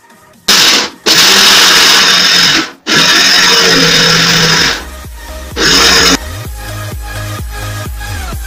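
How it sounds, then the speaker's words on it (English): A blender grinding peanuts for homemade peanut butter, run in loud pulses: long bursts of whirring motor broken by short stops, with a lower mechanical hum taking over near the end. "So we'll grind this on pulse mode for about a minute or two"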